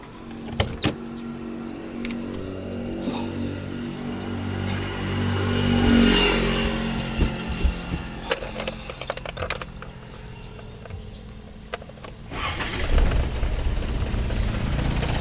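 A small engine starting up and idling steadily, its low rumble running continuously with scattered clicks and rattles, then rising in a louder rev near the end.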